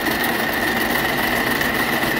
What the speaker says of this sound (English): and the braider will start functioning.